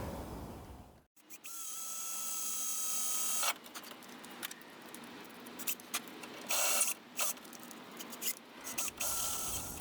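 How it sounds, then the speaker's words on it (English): Power drill with a 1/4 inch bit boring a hole through truck body metal, a loud steady whine running for several seconds with brief bursts and pauses as the bit bites, close to the listener. "Okay, hole is drilled."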